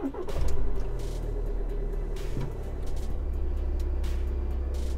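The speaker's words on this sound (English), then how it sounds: "press on the brake and hold the start button." Volkswagen Jetta engine cranking and firing up via the push start button, a short starter burst followed by a steady low idle hum, heard close with no talk.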